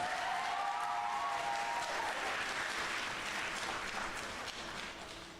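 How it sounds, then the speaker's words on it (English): Applause from a crowd at a high school poetry slam, honouring the poets before they return to the stage, sustained and full for several seconds, then easing slightly toward the end with no talk over it. "Can we give them one final round of applause?"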